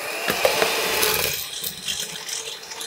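An electric mixer beats butter and sugar for vanilla cupcake batter, giving a loud, rough whirring that fills the first half and then eases to a softer, thinner churn. No one speaks.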